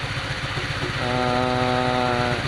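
Honda Vario 125 scooter engine idling at 1800 RPM in a workshop, a steady close mechanical hum that settles into an even, constant drone after about a second.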